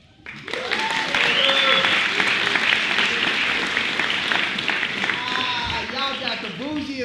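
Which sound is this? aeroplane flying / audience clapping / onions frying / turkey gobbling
audience clapping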